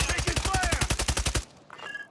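Rapid bursts of enemy sniper and automatic gunfire in the shooter game Warzone 3, a dense run of loud repeated shots for over a second, then fading to quieter effects and faint tones.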